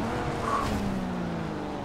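Toyota Supra in the Forza Horizon 2 racing game braking hard, a steady engine roar with a brief rising tire squeal and skid, loud and close throughout.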